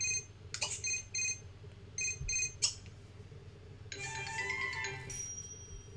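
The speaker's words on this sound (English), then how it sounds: "my phone, I'm not answering." Phone ringing in The Sims 3 Ambitions: a series of bright electronic chime bursts in quick repeated groups, loud and clear, followed by a higher warbling tone near the end.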